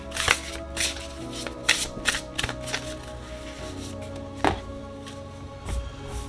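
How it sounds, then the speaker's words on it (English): Oracle cards from the Pure Magic Oracle deck being shuffled by hand, a run of crisp riffling flutters and soft taps close to the microphone, with irregular bursts over a steady faint hum. "We're going to shuffle and we're just going to throw one card."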